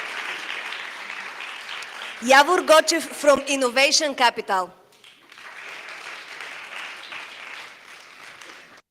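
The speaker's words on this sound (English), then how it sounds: "Big applause." Audience applause for investors at a startup pitch event: a soft wash of clapping, then someone speaks over a pause before the clapping returns more faintly.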